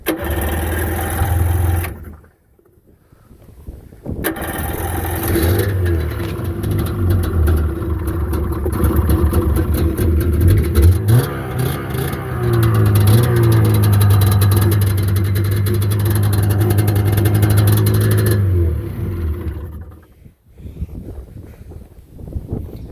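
A small engine on a Husqvarna 95XP717 project machine, started with the choke, runs steadily for about fifteen seconds at a mid-pitched idle with some revving, close by and loud, then cuts off.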